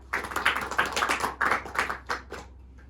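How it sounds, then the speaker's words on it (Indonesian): A small classroom group claps for a student, a brief scattered burst of separate hand claps, fairly close and moderately loud, tapering off after about two seconds. "Beri tepuk tangan untuk Mbak Ika."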